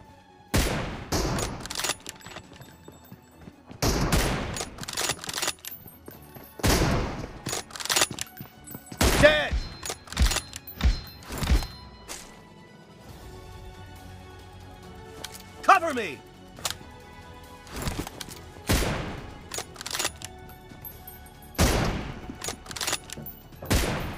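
Gunfire in the mobile battle-royale game PUBG Mobile, fired from a stationary position: irregular bursts of shots and sharp single cracks recur through the clip, with someone talking over and between them.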